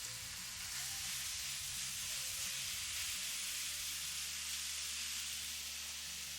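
Sausage meat seasoned with maple and cayenne sizzles steadily in a pan as it renders, a dense continuous hiss that stays even throughout over a low background hum.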